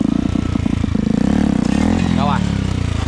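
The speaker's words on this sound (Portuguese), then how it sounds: "aí a moto vai embora agora, ó. Ó, muito mais veloz" Motorcycle on a farm riding off and accelerating, a loud close engine drone climbing in pitch, with someone talking over it.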